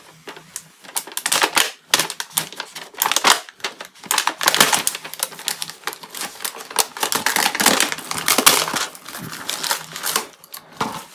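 Crinkly plastic and paper wrapping of a beef burger from a convenience store being torn open and handled, a dense run of sharp crackling rustles close to the mic, with no talking.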